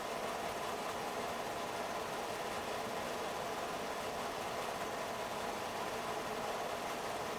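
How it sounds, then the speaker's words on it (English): A steady engine rumbles continuously at an even, moderate level, a constant mechanical drone with no talking. "Oh, here comes Dad on the tractor."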